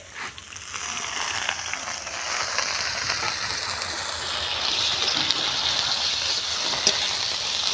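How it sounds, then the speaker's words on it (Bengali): Water poured into a pan of coriander chutney hisses and sizzles steadily, a continuous bright rush that rises after a brief start and holds at a fairly loud, close level with no talk. "এবার জল দিয়ে দেব।"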